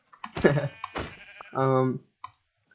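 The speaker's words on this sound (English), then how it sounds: "That's a pink sheep." A pink sheep in Minecraft 1.19 bleats once in a short wavering cry, close and clear, amid a few game clicks and brief bits of talk.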